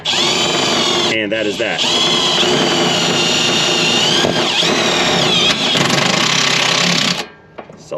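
A power drill driving self-tapping screws, with a loud, sustained high-pitched whine and grinding that rises and falls briefly and then cuts off near the end. A voice talks briefly at the close.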